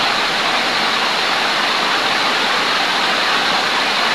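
Heavy rain pours down steadily, a dense, loud, unbroken hiss filling the whole stretch with no pauses and no voices over it.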